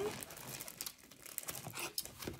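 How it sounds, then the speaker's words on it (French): Stanhome order parcel being unpacked, with plastic and paper packaging crinkling and rustling in quick, uneven bursts close by and fairly quiet, alongside a voice speaking. "déballons cette petite commande Stanome"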